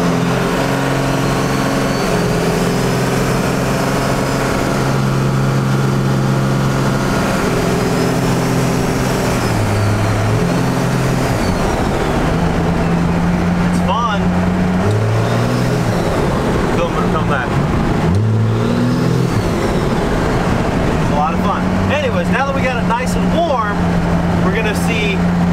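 A used Cummins 24-valve diesel pickup cruises down the road with a steady low engine drone that shifts pitch as it accelerates and changes gear, heard from inside the cab while someone talks throughout.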